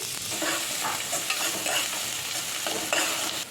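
Chopped big onions fry in two tablespoons of oil in a kadai, a steady close sizzle with scraping stir strokes recurring every half second or so, no voices.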